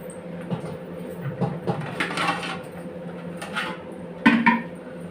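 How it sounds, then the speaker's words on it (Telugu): Soft kitchen clatter of metal cookware, ending in a clear clank as a lid settles onto a pot of water being brought to a boil for jackfruit biryani. "ఇప్పుడు మనం మూత పెట్టేద్దాం"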